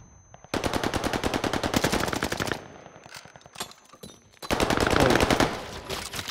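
Automatic gunfire in Call of Duty Warzone on the Caldera map: two long, loud, rapid-fire bursts with a tight rattling rhythm, separated by a quieter stretch of scattered shots and rumble.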